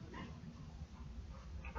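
Munch, a dog, whimpers and lets out soft yips and low barks indoors. The sounds are close but very quiet, come in short irregular bursts, and no one talks over them.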